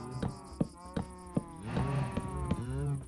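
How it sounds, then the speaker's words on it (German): Cows moo in the Minecraft video game, long drawn-out lowing calls overlapping near and loud, with sharp clicks and a steady background hum between them. "Aber die Kühe machen aber auch Sounds"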